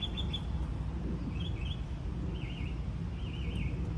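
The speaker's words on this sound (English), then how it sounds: "A mockingbird." A mockingbird sings outdoors in short, varied warbling phrases, faint and distant, over a steady low wind-like background rumble.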